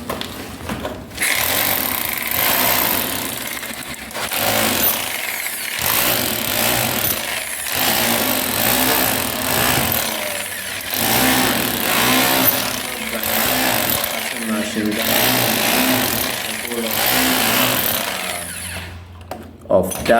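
A rotary hammer drill chisels at a building site in Ghana, a loud continuous rattling hammer with short pauses and restarts across the span.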